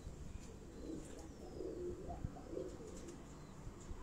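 Pigeons, including a teddy pigeon, on a rooftop near Chuck Bailey Road in Rawat give a few faint, low coos at a distance over steady background noise.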